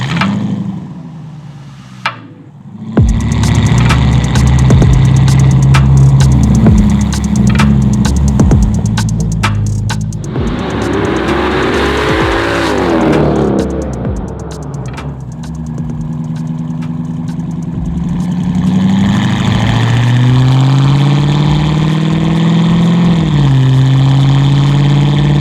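A widebody custom Mercedes-Benz 300SL Gullwing with an AMG engine fires up and drives off, its mid-pitched engine note loud and close, idling, then swelling and falling through revs and gear changes, with no talk.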